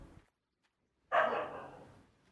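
After a moment of near silence, a dog gives one bark, sharp at the onset and trailing off quickly, faint and somewhat distant.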